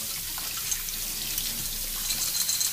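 Tap water runs steadily to rinse trumpet valves in a sink: a close, continuous hissing splash with small spatters. No voices are heard.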